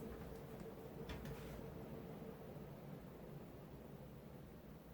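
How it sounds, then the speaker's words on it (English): A Sears Emerson Turn of the Century 52-inch antique brass ceiling fan runs at medium speed, giving off a steady broadband whoosh and low hum, with a faint brief rattle near the start. "I didn't notice much of a difference in the sound that the fan makes."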